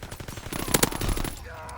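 Rapid automatic gunfire from a World War II era online multiplayer shooter, Call of Duty: WWII, rattling in a dense burst with sharper shots near the middle before trailing off into quieter game ambience.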